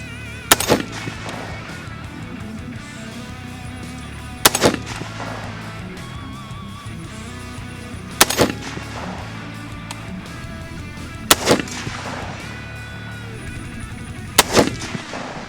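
Five loud, sharp rifle shots from a Bear Creek Arsenal Huntmaster .30-06 fired off a rest at steel targets, spaced a few seconds apart, each crack trailing a brief echo with no talking.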